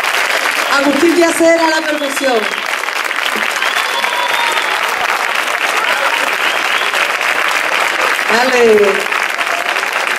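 Loud, sustained crowd applause at a town fair performance runs throughout, while someone talks over it at the start and again near the end.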